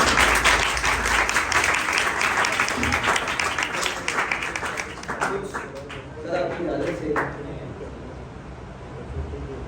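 An audience at an Urdu mushaira in Faisalabad breaks into full, sustained applause that stays loud and dense for several seconds, with voices rising in the crowd beneath it.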